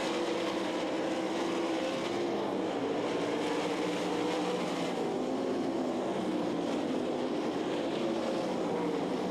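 Sprint cars racing on a dirt speedway, a dense continuous engine roar from a pack of cars heard from a distance, with pitch slowly rising and falling as they run through the turns.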